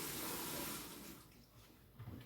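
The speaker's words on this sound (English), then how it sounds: "I will fill this up with water until they are above the mung beans" Water pours steadily into a container of mung beans for sprouting, a soft rushing stream that fades as the flow slows, fairly close and quiet.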